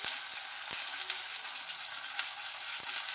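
Chili paste, turmeric, Kashmiri chili powder, cumin powder and salt fry in a pan for chhanar dalna, giving a steady, close hiss with a few sharp scrapes and clacks of stirring and no talk.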